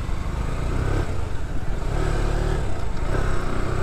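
A motor scooter drones steadily along the road, its engine loud and continuous with slight rises in pitch as it rides, and wind and road noise mixed in.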